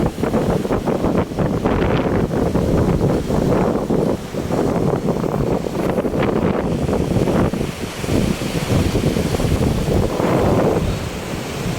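Strong wind buffets the microphone on a beach, gusting loudly in irregular bursts over a steady wash of surf, with no talk.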